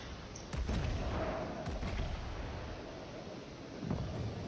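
Battleship guns on the Ishizuchi fire in a World of Warships naval battle: a few distant, muffled booms rise out of a windy, rumbling background, with one near the start and another near the end.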